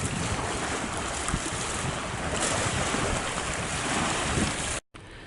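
Sea waves at Leigh on Sea, a constant loud wash of surf mixed with heavy wind buffeting the microphone, continuous throughout and cut off sharply near the end.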